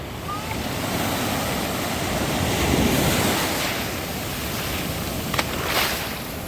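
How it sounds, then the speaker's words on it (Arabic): Sea waves wash steadily onto the beach at Moulay Bousselham on Morocco's northern Atlantic coast, a continuous broadband surf roar with gentle swells and some wind noise, no voices. "احسن رائحه وصوت ديال البحر"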